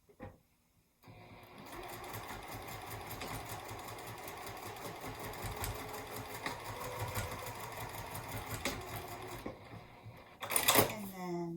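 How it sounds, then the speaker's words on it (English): Home sewing machine stitching through layered fabric while making a zippered cosmetic bag, a steady fast mechanical whir running about nine seconds, then a brief louder clatter as it stops. "put that up here on the machine and stitch through those layers"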